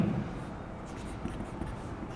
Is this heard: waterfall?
no